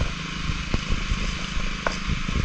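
A steady, rumbling tractor engine drone throughout in a monsoon rice field in Konkan, with a few faint clicks and knocks over the continuous hum.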